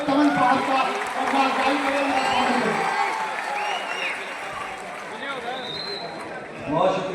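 Applause from an audience at a Jan Suraaj Party political meeting in Bapu Sabhagar hall, Motihari, a broad crowd clatter filling the hall steadily for several seconds, fading slightly, with a fresh swell near the end.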